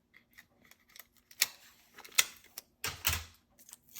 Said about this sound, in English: I'm going to do that with the Scotch tape method